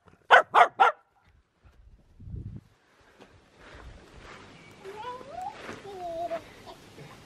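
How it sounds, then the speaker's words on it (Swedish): Small, mischievous dog gives three quick, sharp barks up close, followed by quieter household sounds and soft voices, during family travels in Italy. "Och vi har en liten busig hund här."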